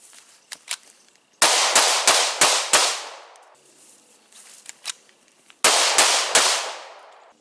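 Live shooting practice: two quick bursts of loud, sharp gunshots, about four or five in each, cracking close by with short echoing tails, with softer clicks and handling noise between them.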